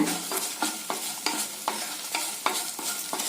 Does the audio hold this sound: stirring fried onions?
yes